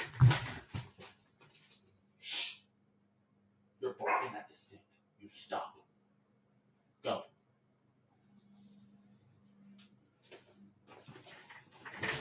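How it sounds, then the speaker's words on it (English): A pair of pet dogs indoors barks in sharp, scattered bursts, loud and near, with pauses of quiet between them and a person's voice briefly heard among the barks. "My dogs like to bark at random."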